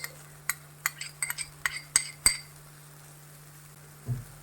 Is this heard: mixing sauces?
yes